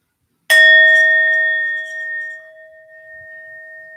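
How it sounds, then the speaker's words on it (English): A meditation bell is struck once to open a sitting session, a clear bright strike followed by a long pure ringing tone that slowly fades over several seconds. "it's one bell to start and one to finish"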